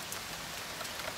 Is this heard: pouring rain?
yes